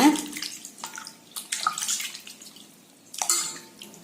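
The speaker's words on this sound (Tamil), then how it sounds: "தண்ணியை மாத்தி மாத்தி அலசி எடுங்க" Salted dry fish (ola karuvadu) is rinsed and rubbed by hand in a bowl of water, making bursts of sloshing and splashing with short trickling pauses between strokes.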